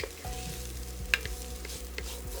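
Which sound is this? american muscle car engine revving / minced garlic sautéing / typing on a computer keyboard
minced garlic sautéing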